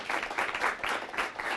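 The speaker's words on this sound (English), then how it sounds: "How about one more round of applause" An audience at a talk on suicide claps in a short, dense burst of applause, moderately loud and steady throughout.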